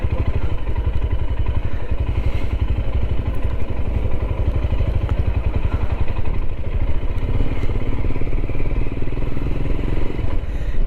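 A Royal Enfield Himalayan motorcycle being ridden, its engine giving a steady rapid thumping drone close up, with wind rushing past throughout.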